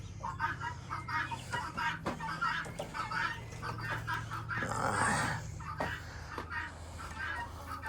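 Guinea fowl and ducks call back and forth in a farmyard on a rainy day, with repeated harsh clucking and chattering cries that rise to a louder burst midway, heard close by over a low steady background hum.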